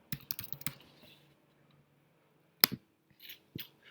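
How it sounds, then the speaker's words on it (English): A computer keyboard clatters in a short burst of close keystrokes, then falls quiet before a few isolated clicks and taps follow in a hushed room. "what I do down here is I type in worldwide."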